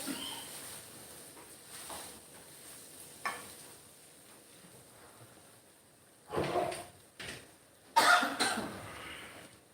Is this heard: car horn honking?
no